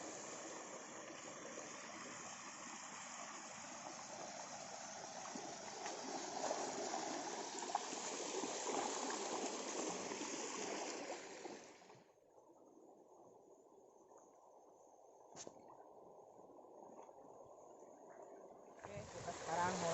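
Clear, shallow river water flowing in a hidden natural spot at Tonyong, Salem, heard as a steady broadband rush that fills the first twelve seconds, then drops to a quieter, thinner trickle before swelling again at the end.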